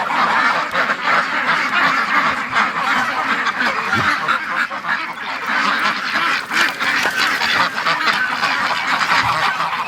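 A group of growing ducklings quacking continuously, a dense, overlapping chorus of calls close by, fairly loud, with no talking.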